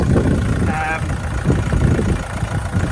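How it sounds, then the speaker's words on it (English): A Vauxhall Mokka diesel engine with a failed flywheel idles steadily with a low, rough rumble, close by, with no revving. "that's the engine just ticking over"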